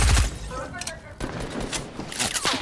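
Turret fire in Fortnite, a rapid burst of automatic shots close up at the start, then scattered gunfire in the game mix under a speaking voice.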